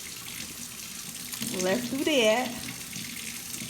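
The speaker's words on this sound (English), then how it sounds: "So now I'm gonna turn the water on." Water running steadily from a kitchen sink tap into a garbage disposal, a constant hiss under a person's speech, with no other sounds.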